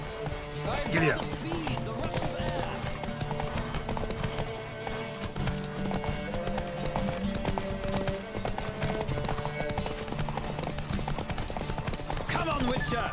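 Horse hooves gallop in The Witcher 3 during a horse race, a steady clip-clop running under game music and shouted rider voices throughout.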